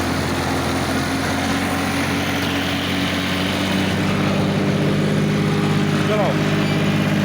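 A John Deere 5310 55 hp tractor engine drives a super seeder under heavy load at about 2000 RPM, a loud, steady, close drone with constant low hum throughout.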